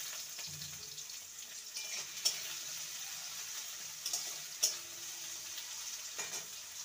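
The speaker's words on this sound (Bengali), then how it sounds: "পেঁয়াজকে হালকা লাল করে ভেজে নিয়েছি" Chopped onions frying in a pan until lightly browned for a dhaba-style potato curry, a steady soft sizzle with a few sharp clinks of stirring, heard alone without talk.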